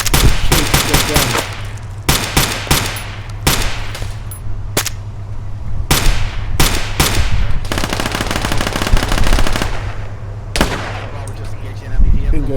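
Rapid bursts of automatic gunfire aimed at an enemy vehicle in a combat video game, loud and close, firing in repeated volleys with short pauses and a sustained stretch of fire near the end, with some talk in the background.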